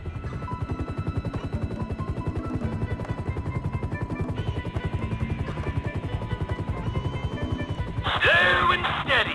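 Police helicopter in a video game hovering near a parking garage, a steady rotor thump and engine whine running throughout, with a louder noisy burst near the end.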